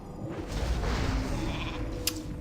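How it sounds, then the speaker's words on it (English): A sheep bleats in World of Warcraft, giving one drawn-out, wavering call lasting about two seconds over a dense background of game sound. "We are a sheep, we are a sheep, we are a sheep."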